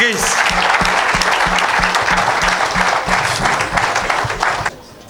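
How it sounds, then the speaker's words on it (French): A congregation at a French-language evangelical miracle service breaks into sustained loud applause, dense clapping filling the room throughout and cutting off near the end, with some voices mixed in. "Est-ce que tu peux acclamer pour Jésus-Christ?"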